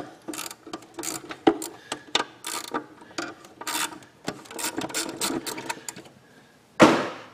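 A ratchet works on a Buick LeSabre, producing bursts of close, rapid raspy clicking separated by short pauses, ending with a louder metallic clank.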